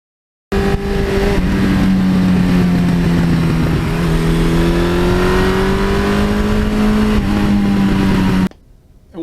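A 1982 Suzuki GS1100E engine cruises barely above idle, a loud, steady, close-up drone with a slowly rising and falling pitch that cuts off abruptly near the end.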